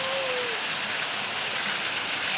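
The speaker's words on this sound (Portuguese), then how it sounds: "Tá vendo a chuva, tá?" Steady rain falls in a dense, even hiss on surfaces outdoors, close and fairly loud throughout, with no talk over it.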